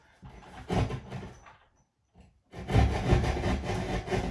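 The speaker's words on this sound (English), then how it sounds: "That's why I also brought my drywall saw up here." A hand drywall saw cuts through drywall while a larger bathroom vent fan is being installed, giving close, raspy back-and-forth strokes, with a short burst, a brief pause, then a longer steady run of sawing.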